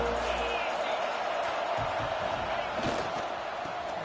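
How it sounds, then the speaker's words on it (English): A stadium crowd at a college football game involving Missouri roars in a steady, loud wash of cheering and shouting throughout, with a few sharper bursts rising above the din. "This crowd ready to make its presence known."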